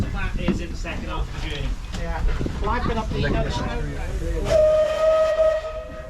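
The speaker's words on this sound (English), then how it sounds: "with a blast on the whistle, we begin our journey" A narrow-gauge Vale of Rheidol Railway steam locomotive gives a long, steady whistle blast as it departs after a stretch of rumbling engine noise, with voices talking underneath.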